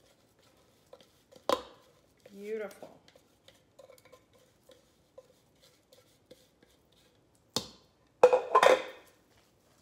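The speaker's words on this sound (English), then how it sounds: "I really want to scrape everything off this because there's more goodness at the bottom of the blender." Intermittent scraping and clinking of a utensil against a blender jar, scraping out a vegan meatloaf mixture, brief scrapes spread across quiet pauses, with a short spoken word in between.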